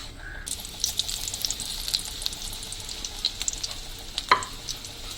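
Potato fries pakoras fry in hot oil with a steady close sizzle and crackle, broken by light stirring clinks and one sharper scrape.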